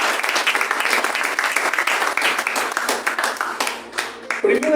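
A church congregation claps and applauds together in a dense, fairly loud burst that thins out near the end.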